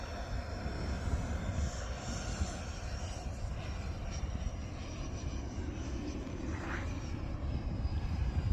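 Aerofoam Aermacchi MB-339 RC model jet with a 105mm HSDJets electric ducted fan flying at half throttle, gear and flaps set, a steady broad rushing whine held at an even level throughout, heard from a distance outdoors with no talk.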